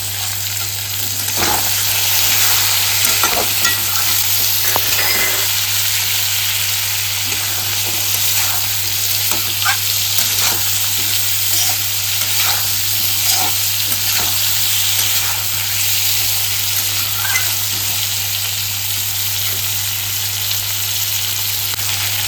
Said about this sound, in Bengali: নাড়াচাড়া করে যে ছোলা আর বাদামটা ভিজিয়ে রেখেছিলাম ওটাকে দিয়ে দেবো।